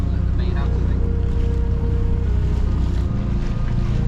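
A sailboat's engine drones steadily beneath gusting wind and water noise while motoring, a constant low hum with a faint tonal whine running throughout.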